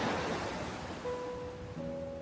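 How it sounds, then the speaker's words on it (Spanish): Ocean waves wash onto the shore in a soft, broad roar that swells and settles, with faint tonal notes of gentle background music entering partway through. "el murmullo de las olas rompía en la orilla"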